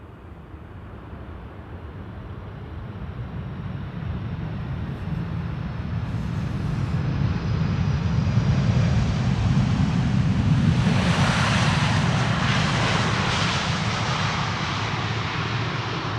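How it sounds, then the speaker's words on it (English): Airliner landing on the Polderbaan runway at Amsterdam with thrust reversers at idle, a steady broad jet roar that builds and holds for a long stretch, mixed with wind, heard from outside at a distance. "KLM style landing. Idle reversers and rolling out."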